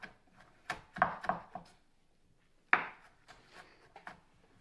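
A knife chops onions and garlic into thin slices, giving a handful of sharp, separate taps in short bursts, then a pause before a louder cut and a few softer ones, close and clear with no talking.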